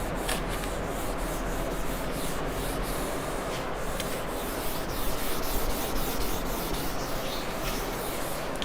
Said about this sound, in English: I'll try to rub it off.